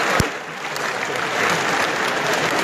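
Lecture hall audience at a university auditorium in Lahore breaking into a short burst of dense clapping, starting with a sharp clap and continuing as an even patter.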